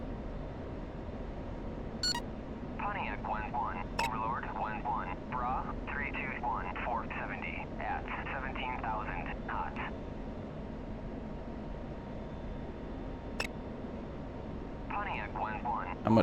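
An F-16 climbing in the DCS flight simulator gives a steady, even jet-engine roar throughout, with brief radio-style beeps and voice chatter over the drone.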